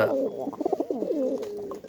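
A pet pigeon coos nearby in a home, a short run of throaty warbling coos, close and clear with no talk over it.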